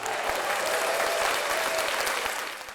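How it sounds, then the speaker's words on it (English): Applause sound effect on a news podcast, a thick crowd-like wash of clapping that holds steady and loud before tapering slightly at the end. "And cue the applause."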